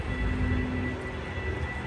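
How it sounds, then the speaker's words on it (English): A train pulling into a station, a steady broad rumble and rolling hiss held at even loudness throughout, with no talk over it. "Here comes the train."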